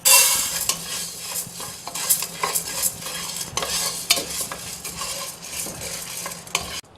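Chana dal dry-roasting in a pan for sambar powder, stirred with a spoon: repeated scraping strokes and rattling grains over a soft sizzle, close and busy, with no talking.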